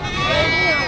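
One of two goats being sold gives a short, loud, quavering bleat close by, with voices murmuring in the background.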